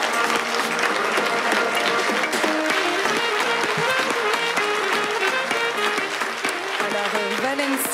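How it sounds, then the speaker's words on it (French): Applause for a model walking a fashion show runway in crochet-made garments; steady, dense clapping from a crowd throughout, mixed with music playing. "je vous demande une belle main d'applaudissements pour Valencia"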